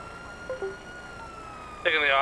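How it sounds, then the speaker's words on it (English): A police car siren in GTA, a loud wailing burst starting near the end after a stretch of quiet radio-style background, with brief voice fragments before it. "Siren check, primary siren check."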